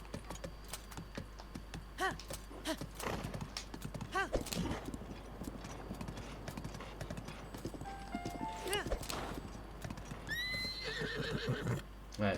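Hooves clip-clop rapidly as a horse gallops in The Legend of Zelda: Breath of the Wild, with several sharp whinnies breaking through while someone talks over the game sounds throughout.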